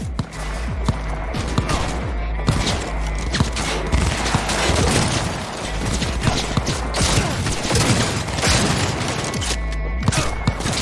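Sustained gunfire in Cyberpunk 2077 crackles through a firefight, dense bursts and rattling shots running almost without pause, loud and close throughout.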